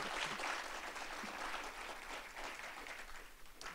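Steady audience applause at a faculty and staff assembly, a dense wash of many hands clapping at moderate distance and holding even throughout.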